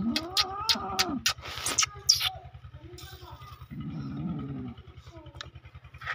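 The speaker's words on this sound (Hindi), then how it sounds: "इधर बिल्ली फंस गई है" A cat that has become trapped gives several loud, strained meows and yowls, close by. A steady low mechanical hum runs underneath, and a person speaks briefly.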